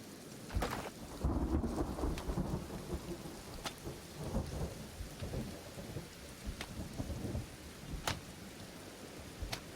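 Steady rain with rolling thunder in the video game Kenshi, a constant wash of rainfall under deep rumbles and a few sharp cracks, with no talking.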